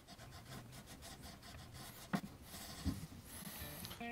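A fret eraser rubs across a guitar fretboard to remove scratches, producing soft repeated scraping strokes with a few sharper scuffs, close and quiet with no voice.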